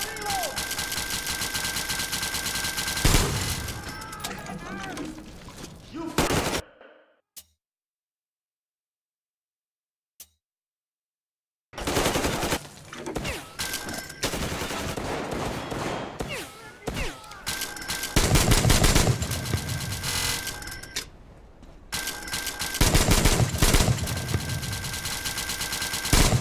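Heavy automatic gunfire in the Metro Exodus video game, dense sustained bursts of shooting with a brief silent gap in the middle, loud and close, mixed with some shouted talk.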